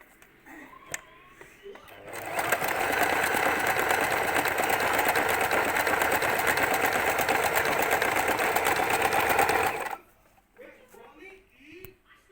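A sewing machine stitches in one steady, loud, rapid run of about eight seconds, then stops; quieter handling noises and brief speech come before and after it.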